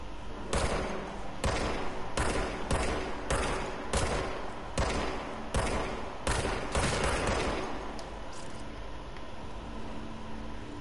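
Rapid bursts of video game gunfire, a dozen or so sharp shots in an uneven rhythm, loud and close over a constant background rumble.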